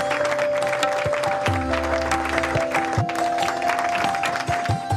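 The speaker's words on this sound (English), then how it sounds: "let's applaud Isha and the entire retail team for their superlative achievements" Shareholders applauding in a large hall at the Reliance 48th Annual General Meeting, a dense, sustained wash of clapping heard over a background hum and some amplified tones.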